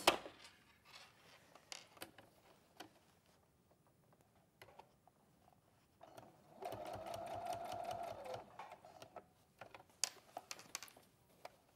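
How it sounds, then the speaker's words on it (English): A sewing machine stitches fabric in a short, steady burst of rapid mechanical clatter, preceded and followed by quieter handling clicks and taps, close by and moderately loud. "I can machine sew it from here."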